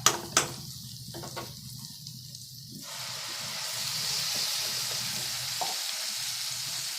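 Potatoes and tomato frying in a pan with stirring, a couple of sharp utensil knocks at the start, then a steady soft sizzle that grows a little louder and continues without talk.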